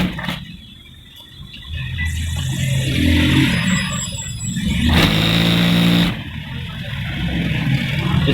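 Sewing machine stitching fabric for a baby boy kurta, running in loud, close whirring bursts that speed up and slow down, with a mechanical rattle and pauses between runs.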